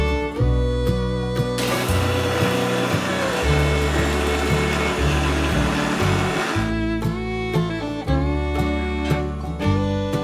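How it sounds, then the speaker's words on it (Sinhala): A blender grinds biscuits down to a fine powder for no-bake chocolate peanut butter bars, giving a steady, loud whirring roar for about five seconds under continuous background music. "ඉස්සෙල්ලාම අපි අපේ බිස්කට් ටික හොඳට පිටි වගේ කුඩු වෙනකම් බ්ලෙන්ඩ් කරගන්න ඕනේ."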